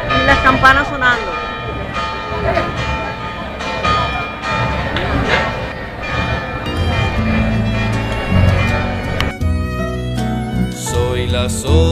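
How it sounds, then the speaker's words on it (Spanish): Church bells ring steadily at the Realejos Alto church in Los Realejos, Tenerife, during preparations for the romería, a dense and continuous peal with a murmur of people beneath it. "Y las campanas sonando."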